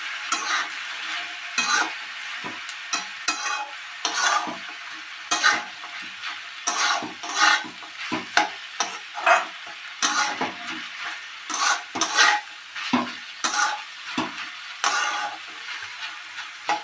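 Chopped tomato frying in a pan for a Bengali bean mash, stirred with a utensil in repeated scraping strokes over a steady sizzle, close and moderately loud with no talking.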